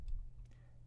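A computer mouse click, a few faint, quick taps close by over a low background hum.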